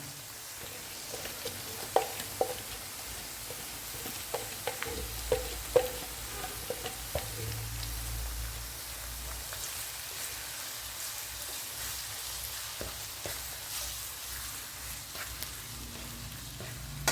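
Two medium chopped onions sautéing in a pan, a quiet, even sizzle with scattered clicks and scrapes as a spoon stirs them now and then.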